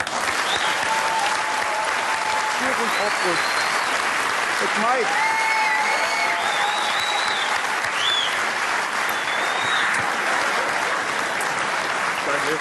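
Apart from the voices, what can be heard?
audience applause for Mike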